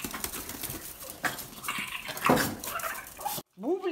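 A dog whimpers and yelps while being chased off, short cries mixed with clattering and a voice shouting over it, ending in a brief high whine.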